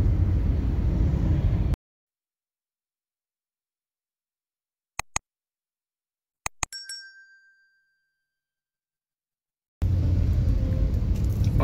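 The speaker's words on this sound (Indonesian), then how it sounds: "Ini kota Palembang dalam suasana macet." Evening traffic jam in Palembang city: a dense, steady rumble of engines and road noise, loud and close, cut off by a long silence broken only by a few sharp clicks and a ringing bell tone, then the rumble resumes.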